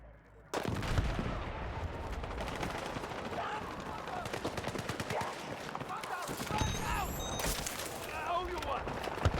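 Rifle fire in a first-person shooter video game, rapid bursts of shots crackling over a busy game soundscape with someone talking over it throughout.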